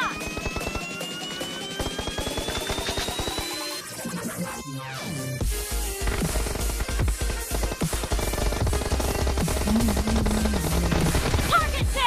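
Rapid gunshots in a mobile shooter video game, a busy rattle of shots and effects that grows denser and louder in the second half, mixed with game music and sound effects.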